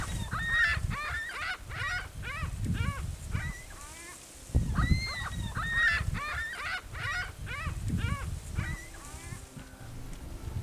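A flock of geese honks steadily and repeatedly in the Oregon high desert, many overlapping calls at a moderate distance over a low rumbling background, with no talk.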